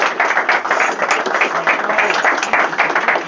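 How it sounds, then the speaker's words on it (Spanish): Audience applause for a man leaving the stage, loud, dense clapping that holds steady for the whole stretch with no break. "Darle un aplauso porque se lo merece el hombre"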